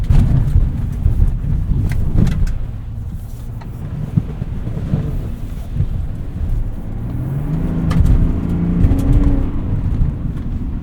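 A 2024 Chevrolet Silverado 1500 ZR2 with a 3.0L Duramax diesel drives through mud, giving a steady low engine rumble with bumps, thuds and wind noise as it rolls over rough ground.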